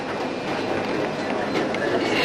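Zoo tour train rolling along at San Diego Zoo, a steady broadband rumble with faint rail clatter, moderately loud and continuous throughout.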